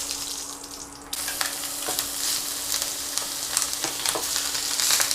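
Minced meat sizzles hard in a very hot pan, a loud, dense crackle that jumps up suddenly as the meat goes in and keeps spitting close by with sharp pops throughout.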